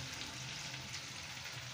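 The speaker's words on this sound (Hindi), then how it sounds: "इस टाइम मैंने मिर्ची वगैरह फ्राई कर ली है" Chilies frying in a pan give off a faint, steady hiss of oil with no other activity, brief and even throughout.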